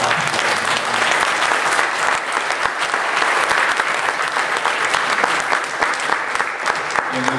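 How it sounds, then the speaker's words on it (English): A church congregation claps for its pastors at an anniversary celebration, steady loud applause from many hands filling the room throughout, with faint voices mixed in. "Let's give them a clap."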